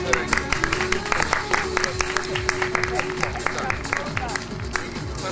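Audience applause at an outdoor show-jumping horse gala, steady dense clapping from a crowd with a murmur of voices underneath, continuous and fairly loud throughout.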